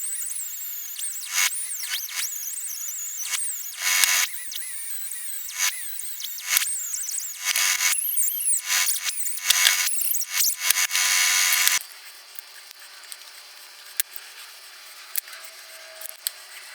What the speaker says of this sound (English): I'm gonna make an effort to go ahead and hit it with the sander and see if I can't clean it up a little bit